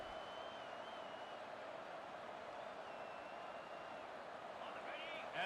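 Crowd noise in an American football video game, a steady, loud stadium roar of cheering that holds at an even level throughout and swells slightly at the end.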